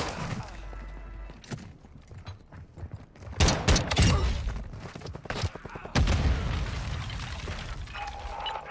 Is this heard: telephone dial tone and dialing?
no